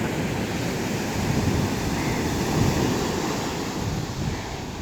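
Arabian Sea waves wash steadily onto the shore at Kanyakumari in southern India, a continuous loud roar of surf mixed with wind buffeting, with no voices.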